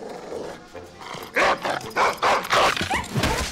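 A dog gives a run of short, close barks mixed with a rising, whining whimper, loud and repeated over a few seconds.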